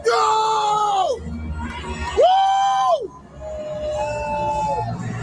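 Loud screams and whoops from an excited crowd, sustained vocal shrieks rising and falling over a steady roar of cheering, with a brief dip before the noise builds again.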